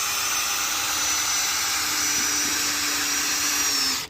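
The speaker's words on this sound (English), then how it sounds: "But we're going to put 2 screws in" Power drill driving screws into deck boards during a deck renovation: a steady, loud, high-pitched motor whine held for about four seconds before stopping abruptly, with no talk.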